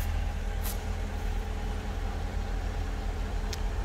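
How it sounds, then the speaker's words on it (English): A stock-exhaust car engine idles quietly and evenly, a low steady hum with no revving and a couple of faint clicks over it. "The engine runs like a watch, super quiet."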